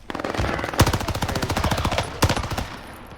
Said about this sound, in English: where am I getting shot from